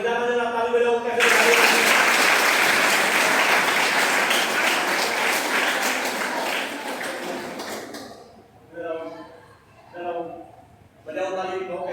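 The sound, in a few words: school children clapping hands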